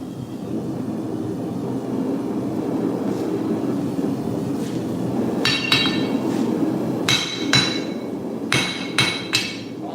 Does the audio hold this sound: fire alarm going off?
no